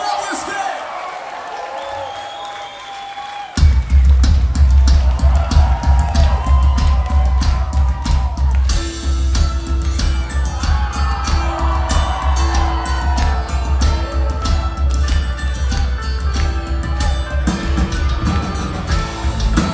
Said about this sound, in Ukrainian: Ваші аплодисменти!